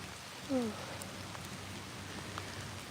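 Rain falling at Fort Houston Cemetery in Texas, a faint, even patter with steady hiss throughout and a brief tonal chirp early on.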